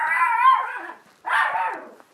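A dog known for biting lets out two long, loud, strained barks with a howling quality, separated by a short silence, close to the listener in a home.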